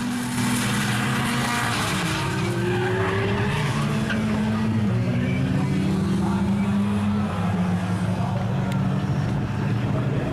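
A GT race car slides on wet asphalt, its loud engine droning and wavering in pitch as the tires skid and the car is caught, a continuous close roar with a voice talking over it.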